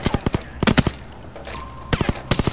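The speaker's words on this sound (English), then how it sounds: "Gunshot." Gunfire in the video game Payday 2 during a diamond heist: rapid bursts of sharp, close shots in quick clusters, broken by a brief pause before more rattling volleys.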